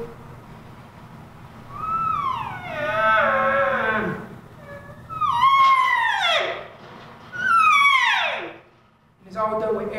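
A man imitates bugling elk on a diaphragm call, producing a series of high, squealing, downward-sweeping whistles pushed with air pressure and voice, several separate calls with pauses between them, loud and close.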